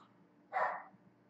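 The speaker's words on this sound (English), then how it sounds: "Do you hear my naughty dog?" A dog gives a single short, close bark in a quiet indoor room, standing alone against faint background hum.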